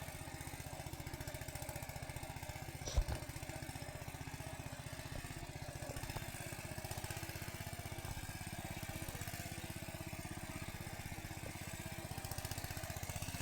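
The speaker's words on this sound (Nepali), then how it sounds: "म यहाँ ट्र्याक्टर जोतिरहेको छु" A mini tiller engine ploughs a hillside field with a steady, moderately distant low drone and one sharp thump early on. No one speaks.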